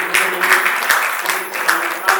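Applause from an audience at a spiritual gathering in a Vrindavan ashram, welcoming a revered guru, steady and moderately loud with a sustained low hum beneath and a few sharper claps standing out.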